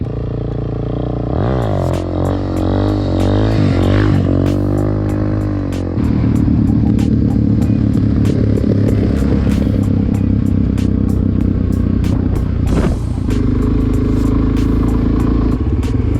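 A Suzuki DRZ400SM supermoto engine revs up for a wheelie at a jump spot, rising and falling throttle blips loud and close, followed by a steady rumbling drone with clattering knocks.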